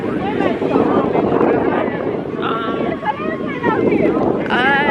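Steady wind buffets the microphone with a loud, rushing roar while a person talks over it outdoors in a beach parking area in Miami.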